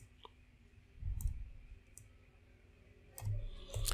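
Computer mouse clicks while working in SPSS statistics software, a few brief sharp clicks spaced apart over quiet room tone, close and fairly soft.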